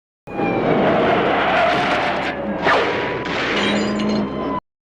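A film car chase with a police car, loud roaring engines and tire noise with a sharp skid or screech midway, continuous and close before cutting off abruptly.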